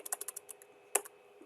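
Someone types on a computer keyboard in a fast run of light, quiet keystrokes, pauses, then adds a sharper key press and a couple of taps at low level.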